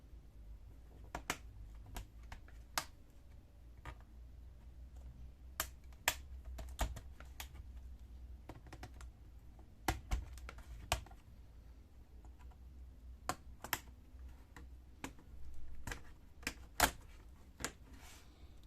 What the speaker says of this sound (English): We have to take out the keyboard.